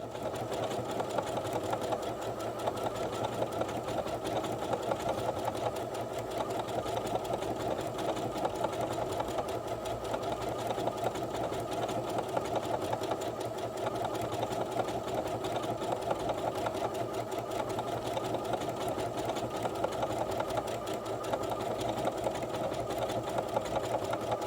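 A Singer HD6805 sewing machine stitches mirrored heart embroidery on fabric, with a steady rapid mechanical chatter and motor whir that runs evenly throughout, close and unbroken.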